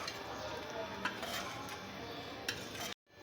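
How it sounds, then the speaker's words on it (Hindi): Kadhi mixture stirred steadily in a pot over low heat, a soft continuous scraping and swishing with a few faint clinks, quiet and close, ending abruptly. "अब इसको मुसलसल हिलाते रहना है"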